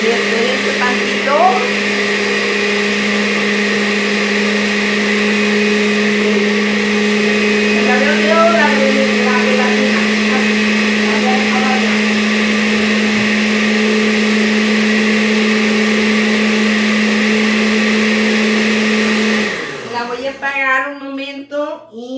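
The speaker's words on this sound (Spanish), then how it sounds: "tengo que ayudar a la licuadora, ayudarla un poquito" A kitchen blender whirs loudly and steadily, blending beetroot with dissolved flavored gelatin, a constant motor drone with small pitch shifts, then it cuts off near the end as a voice speaks.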